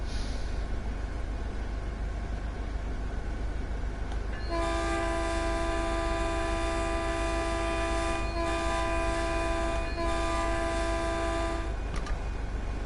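Trains passing in Train Sim World: a steady rail rumble, then a loud sustained multi-tone train horn blast with brief breaks that lasts several seconds before cutting off, no talking.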